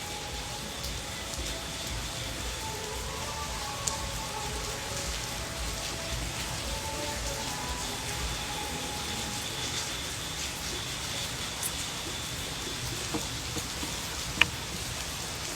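Steady rain falls and patters on surfaces in an even, continuous hiss that lasts throughout, with no voices and only an occasional louder drop.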